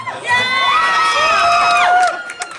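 A theatre audience cheers at a Broadway Bounty Hunter closing speech. Loud whoops and high shouts swell over a couple of seconds, with clapping faint beneath them, then fade.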